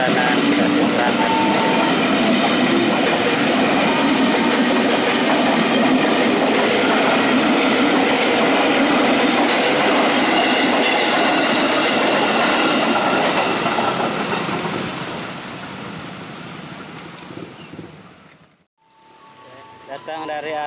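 A KRL commuter train departs Tigaraksa Station, loud and close, its wheels rumbling and clattering over the track with some squeal. The noise holds steady, then fades out and cuts off near the end, and a station announcement speaks over it.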